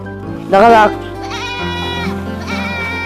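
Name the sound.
goat bleating inside a house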